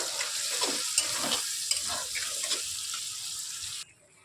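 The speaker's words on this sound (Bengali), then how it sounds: "আমি যে সসের গ্রেভিটা বানিয়ে রেখেছিলাম সেটা এর মধ্যে অ্যাড করে দিচ্ছি দিয়ে ভালোভাবে এটাকে মিক্স করে" Prepared sauce gravy is stirred into a frying masala for restaurant-style mixed chowmein, a close wet sizzle with spatula scrapes and stirring before it drops off near the end.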